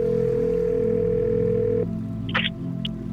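A steady telephone dial tone hums for about two seconds, then cuts off, followed by a couple of brief higher beeps from the phone, with no talking.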